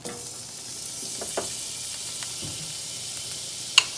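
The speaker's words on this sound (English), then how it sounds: "now I am going to throw a little bit more butter into the pan" Butter sizzles and fries in a pan while mahi-mahi cooks, a steady close hiss with a few faint clinks of a utensil and one sharp tap near the end.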